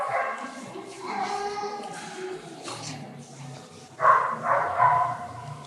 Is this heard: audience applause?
no